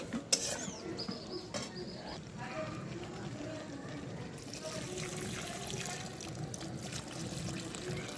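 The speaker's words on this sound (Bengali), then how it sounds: "এরপর মাংসের মধ্যে আমি জল অ্যাড করব" Water pours into chicken curry in a pan, a soft splashing flow that becomes fuller partway through. A few utensil clinks come early and a voice talks faintly underneath.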